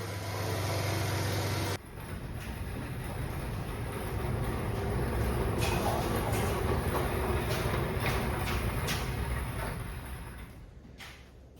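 An old-body-style Ford F-150 engine idles after starting up, giving a continuous, fairly loud rumble that holds steady for several seconds before easing slightly at the end, with no talking.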